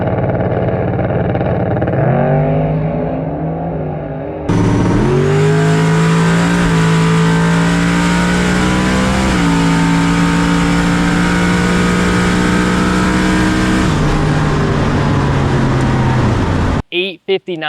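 A race car engine roars through a full-throttle test pass, loud and close, its pitch climbing repeatedly through several sharp gear changes before cutting off abruptly at the end.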